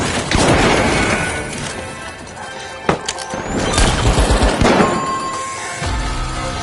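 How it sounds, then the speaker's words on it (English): Grenade explosions and gunfire in the video game The Finals, with loud crashing blasts and sharp bangs over a dense battle din, including a distinct hit near the three-second mark. "Throwing two grenades!"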